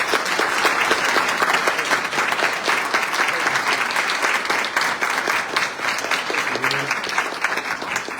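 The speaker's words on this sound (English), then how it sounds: "you can applaud these candidates." An audience at a forum for county probate judge candidates applauds the candidates, producing continuous dense clapping for several seconds at moderate level, with some faint voices underneath.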